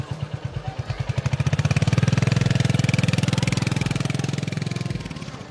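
A Royal Enfield motorcycle engine runs steadily, its low thumping pulse rising from idle into a loud, even throb and holding there close by.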